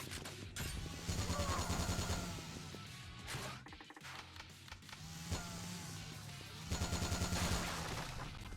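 Gunfire bursts from the Yakuza Dead Souls video game, dense and loud, with rapid machine-gun-like volleys and crashes clustered near the start, the middle and the end, and briefer pauses between them.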